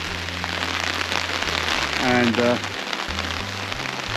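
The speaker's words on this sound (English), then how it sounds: "But it's still raining" Steady rain patters on tent fabric, a dense continuous hiss that fills the space, while a voice speaks briefly partway through.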